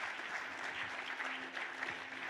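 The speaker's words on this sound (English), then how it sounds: "Let's give a huge round of applause for the panelists" An audience applauds panelists at the close of a panel session, a steady, dense wash of many hands clapping that holds evenly throughout with no talk over it.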